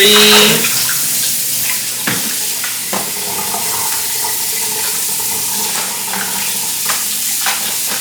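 Corned beef rinsed under a running kitchen tap, a continuous hiss and splatter of water at moderate level, with faint rubbing and shifting of the meat.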